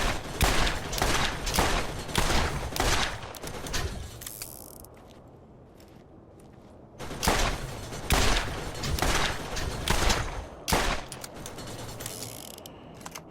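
Rapid mechanical gunfire from a turret in Borderlands, heard in several dense bursts separated by a brief quieter lull, loud and close.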